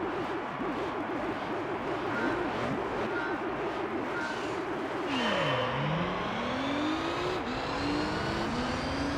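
A Porsche race car in Gran Turismo 3 roars loudly, its engine climbing through rapid revs and gear shifts, dropping sharply, then rising again as it accelerates, with a brief faint voice near the start.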